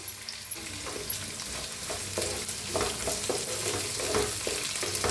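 Carrots and capsicum fry in a pan with a soft continuous sizzle, broken by repeated clicking stirs and scrapes of a spatula. The level is moderate and no one speaks.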